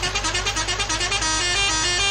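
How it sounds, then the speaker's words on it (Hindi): A Mahindra 415 DI tractor horn from Farming Simulator 19 blares loud and close, a bright buzzing tone that pulses briefly at first and then holds steady. "ओ हाँ इसका हॉर्न तो सुना ही नहीं भाई,"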